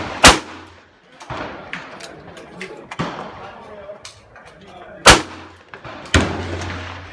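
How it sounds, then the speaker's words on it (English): Gunshots fired outdoors, loud and sharp, two standing out above scattered lesser cracks and knocks, with voices talking throughout. "As I shot the gun in my hand"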